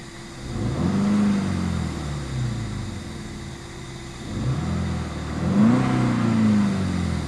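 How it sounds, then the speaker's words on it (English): A 2013 Volkswagen Polo GTI SE three-door, parked, its engine revved twice from idle, each blip rising and falling back, heard close and fairly loud with a steady idle hum between. "so let's go ahead and see how she revs"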